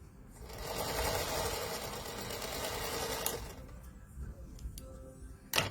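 A sewing machine stitches a log cabin quilt seam, a soft steady whirring run lasting about three seconds, fairly quiet, then trailing off into light clicks and handling noises.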